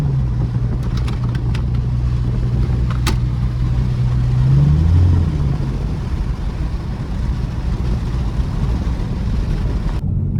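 A 2014 Ford Mustang V6 engine drones loud and steady from inside the car as it slides through a U-turn, the pitch rising briefly mid-way, then settling back to a constant rumble.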